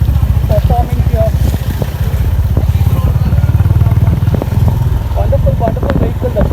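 Honda H'Ness CB350 motorcycle on a test ride, its exhaust producing a loud, steady, throbbing thump close to the microphone throughout, with occasional talking and faint traffic around.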